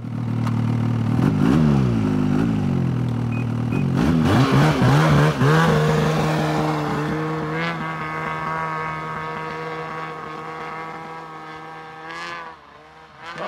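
Snowmobile engine revving hard and rising in pitch as the machine strains to move during spring camping in Alaska, a loud sustained roar with surging pitch sweeps that settles into a steady drone, no talk over it.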